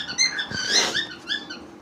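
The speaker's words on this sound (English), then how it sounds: "you might hear my bird in the background" A pet bird nearby lets out a short series of high, chirping, squeaky calls in quick succession, fairly close and with no speech over them.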